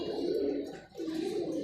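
Alexandrian pigeons in cages giving low, soft cooing, a continuous murmur with a brief dip midway, fairly quiet and close.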